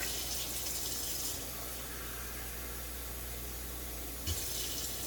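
Water poured by the cupful while cooking chicken and potatoes, a steady close rushing stream that runs continuously with a brief bump near the end and no talk over it.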